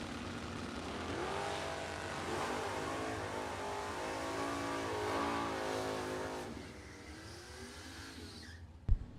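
Drag racing cars, including a 1968 Dodge Coronet, accelerate down the strip, a loud engine roar climbing in pitch through gear changes before receding into the distance, with a brief sharp knock at the end.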